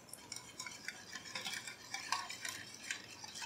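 A spoon stirring a dry mix of black pepper, paprika and oregano in a bowl, quick light scraping and clinking strokes in an uneven rhythm, soft and close with no talking.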